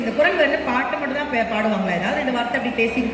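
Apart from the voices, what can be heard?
No everyday noise stands out behind the speech.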